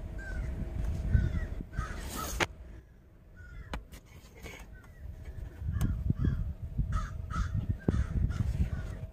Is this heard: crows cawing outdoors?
yes